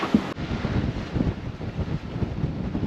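Steady strong wind at a sailboat anchorage in a bay buffets the microphone with a low rumbling roar, constant and close, with a faint wash of water underneath.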